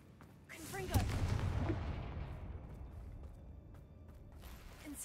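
A Confringo spell blast in the video game Hogwarts Legacy bursts out with a loud explosive boom near one second, then rolls off into a long fading rumble with faint crackles.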